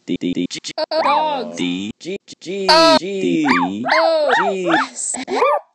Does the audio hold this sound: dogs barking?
yes